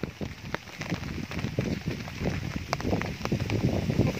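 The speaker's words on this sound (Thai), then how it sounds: "ฝนตกครับ" Rain falling during a downpour, a dense steady patter of drops striking surfaces with scattered sharper taps, fairly close and continuous with no speech over it.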